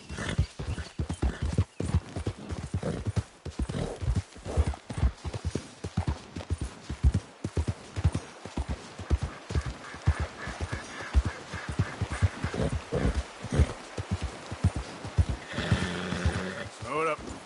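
Horse hooves clip-clop at a steady gallop in Red Dead Redemption 2, rhythmic and close, with a horse neighing and snorting near the end while a voice talks over the riding.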